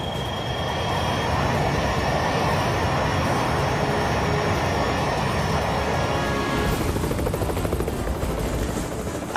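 Helicopter in the arcade shooter Time Crisis 4, a steady loud rotor drone with engine roar holding throughout, the texture turning rougher and noisier in the final few seconds.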